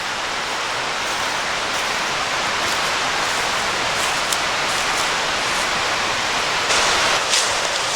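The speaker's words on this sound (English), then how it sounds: "just so many beautiful cascades coming down." The cascades of Scouten Brook Falls rush continuously outdoors, a loud, even, broadband roar of falling water that holds steady throughout.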